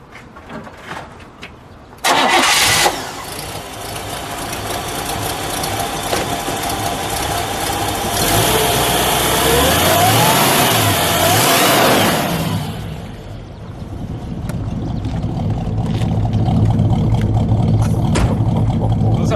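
A 1958 Chevrolet Impala Sport Coupe V8 cranks and fires up with a sharp burst, then settles into a loud rumbling idle with rising revs and a throaty gurgle from resonator-tipped exhaust, heard up close.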